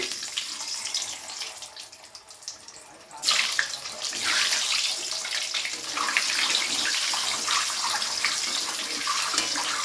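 Eggs fry in hot oil left from frying potatoes for a Bengali mutton dak bungalow, a soft hiss that suddenly swells into a loud, dense, steady sizzle and holds, close and without talk.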